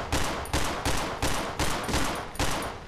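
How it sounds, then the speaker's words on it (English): Gunfire in the video game Cry of Fear, seven loud, evenly spaced shots in quick succession, each with a short decaying tail. "So I'm gonna fucking shoot some rounds."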